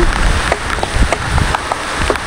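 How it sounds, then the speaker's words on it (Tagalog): Steady heavy typhoon rain pours down, a dense continuous hiss with scattered sharper patters and drips close by, no voices. "Grabe, ang lakas ng ulan."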